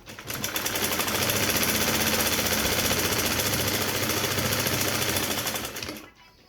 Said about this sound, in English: so I'll just sew it like that